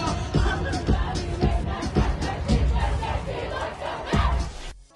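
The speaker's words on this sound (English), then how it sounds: "She was letting the crowd sing." A big concert crowd sings along loudly in unison, a thick mass of voices carrying the melody with cheers mixed in, then falling away at the end.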